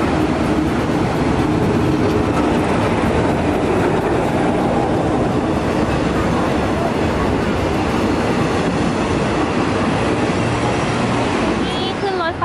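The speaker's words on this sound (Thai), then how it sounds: "นี่ขึ้นรถไฟเรียบร้อยแล้วนะคะ" A passenger train rolls along the rails, a continuous loud rumble and rattle of the carriage heard from on board, with people talking over it.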